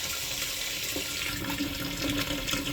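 Hot water runs steadily from the tap of an electric water tank inside a pop-top caravan, giving a continuous close splashing hiss with no voices over it.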